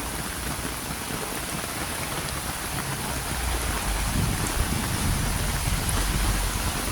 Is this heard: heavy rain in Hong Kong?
yes